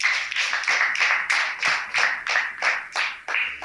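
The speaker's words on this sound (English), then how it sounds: "Let's give them a round of applause." Applause from an audience at a parliamentary-style debate, a steady patter of hand claps with a few louder claps, fairly close and without speech.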